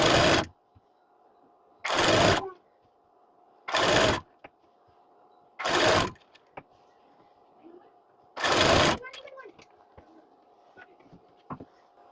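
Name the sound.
sewing machine stitching a blouse seam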